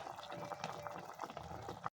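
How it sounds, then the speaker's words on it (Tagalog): A bagaong fish dish bubbles and simmers in a pot, a dense steady crackle of boiling liquid that cuts off abruptly near the end. "Hayaan lang natin kumulo dyan"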